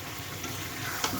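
Ground spices such as cumin and turmeric fry with chicken pieces for a potato chicken curry, giving a brief, soft, steady sizzle with faint stirring and a small clink near the end.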